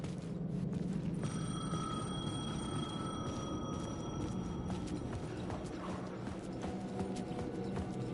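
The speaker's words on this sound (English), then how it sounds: "The payphone was ringing." A payphone rings in the video game Alan Wake II, steady tonal ringing sitting in a dense, noisy ambient bed for several seconds, fairly quiet and without speech.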